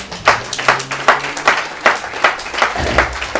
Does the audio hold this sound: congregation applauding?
yes